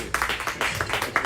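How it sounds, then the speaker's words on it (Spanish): An audience at a book presentation for Daniel Nina's 'La calle linda' claps briefly, scattered hand claps arriving in quick uneven bursts at a moderate level. "Un aplauso para él, por favor."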